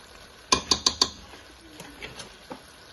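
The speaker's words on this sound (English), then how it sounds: "So I'm just going to give that a stir" A utensil stirs seasoned rice in a pan, starting with four quick sharp clinks against the metal followed by softer, scattered scraping taps, close and clear with no talk.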